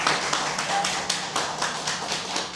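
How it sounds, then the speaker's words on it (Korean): Audience applause at a lecture hall, a brief burst of dense, steady hand clapping from a crowd, close and fairly loud. "박수 한번."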